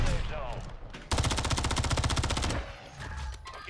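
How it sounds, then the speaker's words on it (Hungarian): Rapid automatic gunfire from a Warzone match, loud and sustained in a dense burst with scattered shots and game noise around it, while players talk over the action. "Hátba lőnek engem."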